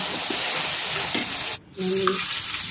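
Spice paste being cooked down in a pan while fish fries alongside, giving a continuous close sizzle with stirring scrapes and a brief dip in the middle, no speech.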